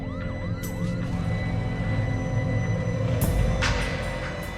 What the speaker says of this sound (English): These ambulances has to go up there.